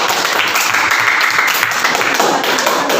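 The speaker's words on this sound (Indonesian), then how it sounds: "Ya, tepuk tangan untuk kelompok 4." A classroom of Indonesian students claps for a group that has just presented, a brisk, continuous patter of many hands, close and loud from start to finish.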